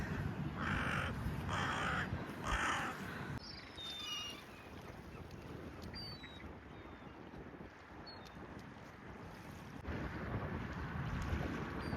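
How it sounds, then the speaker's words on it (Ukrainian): Seagulls calling over a wide, calm seaside beach in Constanța, Romania, with scattered short cries drifting above steady wind and surf noise throughout. "попереду багато чаяк літає"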